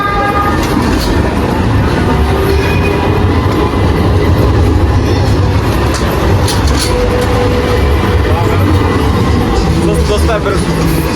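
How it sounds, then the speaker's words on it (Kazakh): A tram runs continuously along a busy Istanbul street, its steady loud rumble and rail clatter filling the scene with city hubbub and voices mixed in throughout. "трамвай осылай үздіксіз өтеді"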